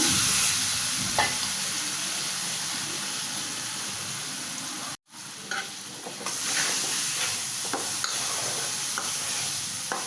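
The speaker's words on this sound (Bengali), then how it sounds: "এই হলুদের ভিতরে ডালটা ভাইজা নিমু" Lentils frying in hot oil with turmeric in a home kitchen, the start of a dal with fresh bottle gourd: a steady, close sizzle with stirring scrapes and clicks, broken by a brief silence halfway through.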